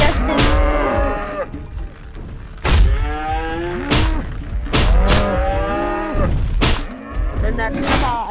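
Cows in a video game moo repeatedly, long drawn-out calls recurring every second or two, loud and close, with thuds between them.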